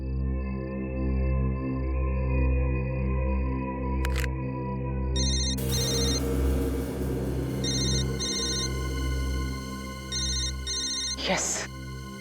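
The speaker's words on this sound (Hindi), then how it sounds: "उस तरफ से आवाज आ रही है फोन की।" A telephone rings from across a room in a tense crime-drama scene, repeated electronic trill bursts under a droning music bed, with people talking nearby.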